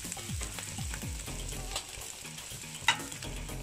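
Maggi murtabak filling frying and being stirred in a pan, a steady sizzle with repeated scraping stir strokes and a sharp clink near the end, close and fairly loud, no talk.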